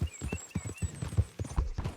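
Horse hooves clop in a rapid, even rhythm in a video game, close and distinct, with a faint whinny-like tone above and a brief pause midway.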